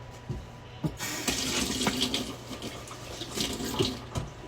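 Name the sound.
tap running while washing hands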